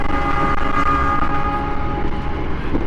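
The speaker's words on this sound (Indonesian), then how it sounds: "ASMR naik kereta di belakang lokomotif paling depan" KA Malabar passenger train heard from a carriage right behind the lead locomotive, a loud steady rumble of running wheels and engine with no voices.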